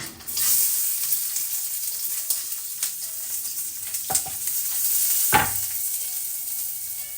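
White onion sautéing in a heated pan for a macaroni and mixed vegetable dish, a steady loud sizzle with occasional stirring scrapes and clinks, close up and with no talking.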